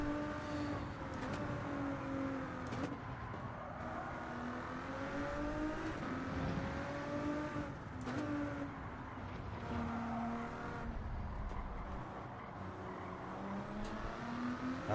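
A race car in Gran Turismo 7 holds a steady engine drone with rising and falling revs as it accelerates and shifts through corners. It is continuous and moderately loud, with no talking.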